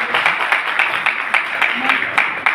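An audience at a large public program in Gorakhpur claps together, dense and rhythmic, with sharp repeated hand strikes forming a steady, fairly close applause across the short stretch.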